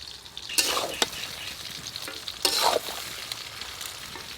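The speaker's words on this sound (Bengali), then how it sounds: "এইভাবে নাড়াচাড়া করে আমটাকে আমি কিছুক্ষণ নাড়াচাড়া করে আমটাকে একটু ভেজে নেব।" Mango pieces being stirred and fried in oil for pickle: a soft background sizzle with two louder bursts of spatula scraping and frying noise, near and without any voices.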